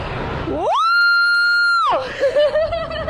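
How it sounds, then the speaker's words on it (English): A Kentucky caller's rock scream over the phone: one long, loud sustained scream of about a second, rising into a steady held pitch and then falling away, with a brief stretch of indistinct voices before and after. "give us a rock scream from Kentucky"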